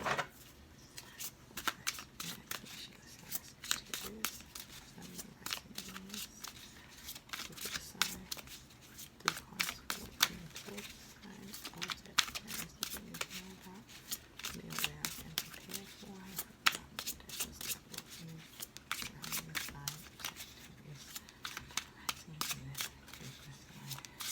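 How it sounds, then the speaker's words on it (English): Rapid, repeated riffling of tarot cards being shuffled, crisp close-up bursts in quick succession with a few soft background voice sounds. "we're going to shuffle 2 more times"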